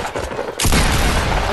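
A sudden burst of rapid gunfire in Fortnite erupts after a brief quiet moment, loud and close, with continuous automatic shots filling the rest of the moment.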